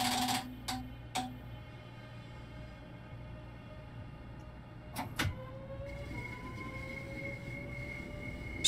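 A train departs in a Dovetail Games simulator on the Medway line toward Rochester: a few sharp door clunks, then a quiet hum as a rising electric motor whine builds and holds steadily.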